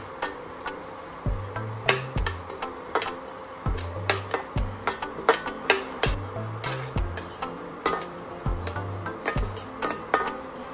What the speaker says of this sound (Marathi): जिरं आपलं भाजून झालं आहे